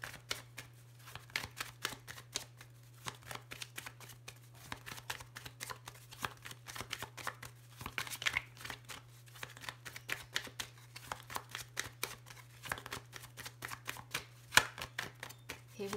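Tarot-style cards are shuffled for a card reading, a long run of rapid, close riffling and flicking with a faint steady hum underneath and no talk.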